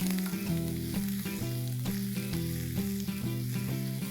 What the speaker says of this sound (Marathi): आता आपण आधी लाल मिरची घालूया आणि आलं लसूण क्रश घेतलेले आहे आपण इकडे 1 टेबलस्पून ते घालूया